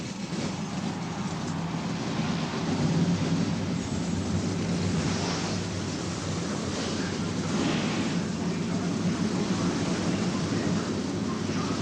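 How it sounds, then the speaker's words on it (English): NASCAR stock car engines at Bristol, Tennessee, during the 1992 Food City 500, blend into a dense, steady, continuous roar that fills the whole stretch without a break. "Thunder Valley in Bristol, Tennessee comes alive with the deafening roar of racing engines"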